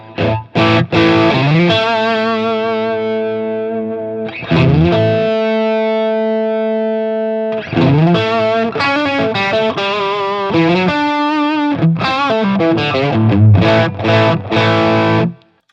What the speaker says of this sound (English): let's stick with the TS9, the tube screamer type side, and let's try to dial in some glassy tones